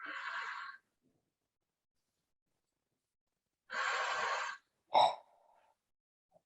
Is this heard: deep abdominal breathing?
yes